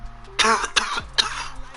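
Three harsh coughs in quick succession, close and fairly loud, with brief pauses between them and no talking.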